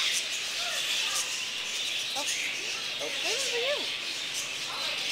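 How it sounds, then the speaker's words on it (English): Birds chirp inside a zoo aviary at Potter Park Zoo, a handful of short, bright calls rising faintly over a steady hiss of background noise with distant voices. "There's birds in here."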